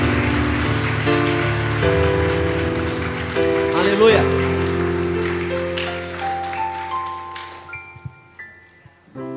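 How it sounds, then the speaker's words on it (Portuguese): A church congregation claps for the Lord Jesus, a steady rain-like wash of applause under sustained music and a voice, thinning out toward the end. "dá uma salva de palmas ao Senhor Jesus"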